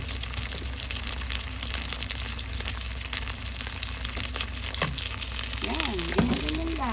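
Tofu steak sizzles steadily in hot frying oil, a dense continuous crackle with scattered pops, close and fairly loud, with a brief voice near the end.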